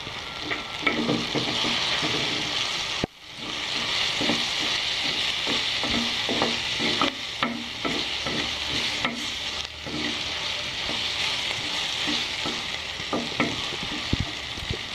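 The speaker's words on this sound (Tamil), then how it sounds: "இப்போ வெங்காயம் தக்காளி எல்லாம் வதங்கிடுச்சு" Onions and tomatoes sauté in hot oil for a fish curry, a dense continuous sizzle broken by rhythmic spatula clicks and scrapes, with one brief dropout early on.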